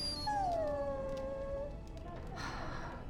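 A dog in the fantasy game Dragon Age: Origins lets out a long, wavering whimpering whine that slides downward and fades, fairly close, over a soft background hiss.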